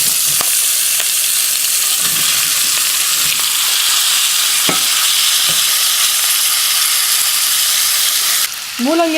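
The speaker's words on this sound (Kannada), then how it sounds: "ಈ ಥರ ಒಗ್ಗರಣೆ ಮಾಡಿಕೊಂಡು ಇದಕ್ಕೆ ಮೂಲಂಗಿನ ಹಾಕ್ತಾಯಿದ್ದೀನಿ" Radish pieces fry in a hot tempering of turmeric and curry leaves, giving a steady, loud sizzle and hiss that lasts throughout with a few stirring clinks. A brief squeak comes near the end.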